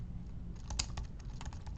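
A search being typed into Google on a computer keyboard, a quick run of light, close key clicks over a low steady hum, no one speaking.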